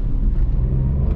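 Renault Kwid 1.0 manual passing over a small speed bump on a road, heard as a steady close low engine and road rumble with a brief bump and no distinct jolt.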